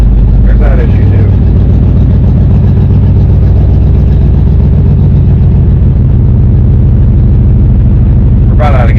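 1964 Ford Falcon Sprint on the move, its engine running loud and close with a steady mid-pitched drone and a small shift in tone early on, continuous throughout.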